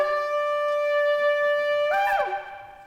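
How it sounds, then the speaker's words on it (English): A sustained, steady shofar (ram's horn) blast with strong harmonics, ending in a rising, wavering flourish before fading out, heard alone. "That's the sound of the ram's horn."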